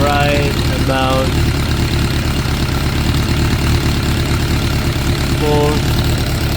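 2006 Suzuki GSX 600F Katana with carburetor problems idling steadily, a loud, constant mid-low engine drone with slight knocking vibration, while a voice speaks briefly near the start and end.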